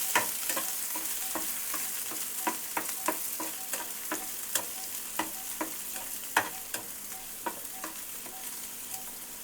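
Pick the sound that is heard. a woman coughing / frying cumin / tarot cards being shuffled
frying cumin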